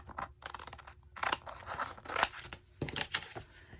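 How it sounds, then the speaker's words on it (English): Scissors snip through paper for a collage journal page in a run of close, crisp cuts, separated by short pauses and paper rustles. "And I'm going to cut it right here."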